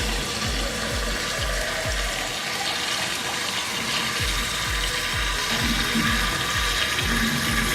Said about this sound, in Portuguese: Colocou a água, cobriu o frango